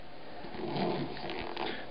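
Zipper on a Lowepro Rezo 170 AW camera bag being pulled open, a quiet, continuous scratchy rasp lasting about two seconds with no talking.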